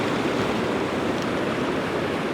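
Ocean waves wash in over the rocks at Bow Fiddle Rock, a steady broadband rush of surf, fairly close and continuous, with no voices.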